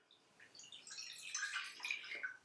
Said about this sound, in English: Here in a saucepan, I am putting in half a cup of water.